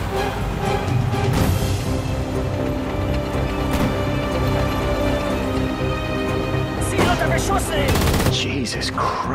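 Bursts of rapid gunfire rattle across a World War II battlefield in Sudden Strike 4, loud and continuous with sharper clustered volleys near the end, under a steady game soundtrack.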